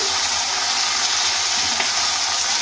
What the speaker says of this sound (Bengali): মুড়োটাকে ভেজে নিয়েছি, ভাজছি, ভাজা হয়ে গেছে।